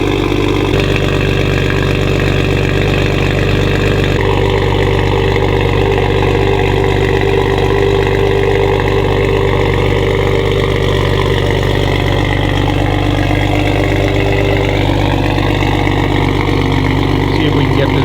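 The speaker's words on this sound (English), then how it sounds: "that's a cold start with the valve closed." A Toyota Supra with an ARK DT-S exhaust idles on a cold start with the exhaust valve closed, a loud, steady, deep engine drone close by, with a voice talking over it.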